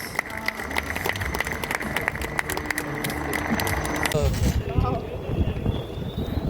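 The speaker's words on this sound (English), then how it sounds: "please give the wonderful pilots a big wave and a big round of applause" A crowd claps for helicopter display pilots at an airshow, a scattered patter of hands for several seconds that fades as a loudspeaker voice talks over it and wind rumbles.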